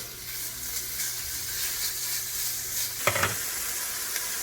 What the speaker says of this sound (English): sausage is starting to brown. We're just going to keep it cooking, get it all browned up